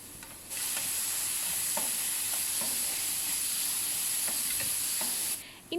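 Dates, Robusta banana, coconut, cashews and poha sautéing in hot ghee give a steady, close sizzle, with a few soft stirring scrapes and no talking.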